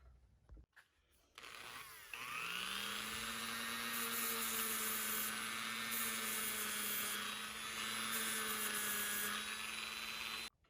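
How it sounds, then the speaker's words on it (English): Dremel rotary tool with a brass wire brush scrubbing grime off a brake master cylinder sight window: a motor spins up with a rising whine, then holds a loud, steady high-pitched buzz with scratchy brushing. "Then on a Dremel tool with a brass brush,"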